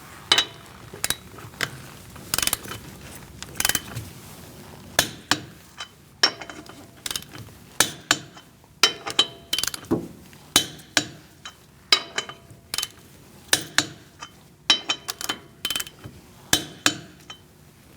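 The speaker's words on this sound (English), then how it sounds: "Using a 19mm socket, we're going to torque our wheels to 100 foot-pounds" Lug nuts on a 2016-2019 Chevrolet Cruze wheel are tightened with a 19mm socket and torque wrench in a star pattern, giving sharp metallic clicks and clinks repeated irregularly, close and alone.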